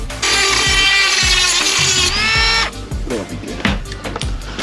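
A Dremel rotary tool cuts holes during a modification on a Ferrari 360 CS, a loud high-pitched whine that runs for about two seconds and then drops away, followed by scraping and clattering handling noises.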